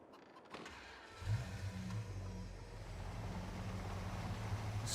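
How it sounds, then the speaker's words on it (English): A pickup truck engine in Farming Simulator 22 starts up and settles into a low, steady idling hum with faint mechanical creaks, fairly quiet and with no talking. "we're gonna go get in our pickup truck, and we're gonna go pick that up."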